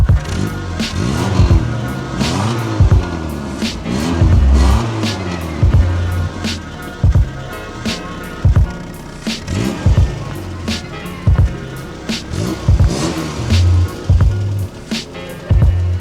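A 1977 Triumph Spitfire 1500 engine running close up, a rough burbling idle punctuated by repeated throttle blips and revs that rise and fall unevenly.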